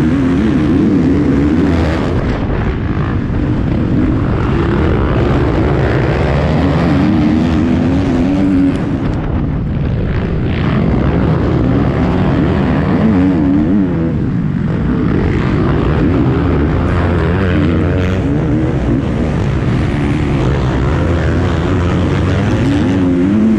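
Off-road motorcycles of the XC1 Pro class roar away from the start line at the Wild Boar GNCC cross-country race, a dense, loud, continuous wall of engine noise from many bikes revving together with no talk.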